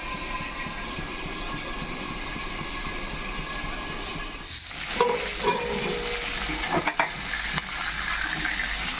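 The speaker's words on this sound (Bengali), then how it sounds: "এটা আগে আমি ভাজা করে নিই তারপরে ভালো করে করে রান্না করে ঢাকা দিয়ে দিচ্ছে নাহলে তেল ছিটবে" Chicken pieces fry in hot oil in a pan for a homemade chicken curry, giving a steady, close sizzle. A few scraping and clattering stir sounds come through near the middle.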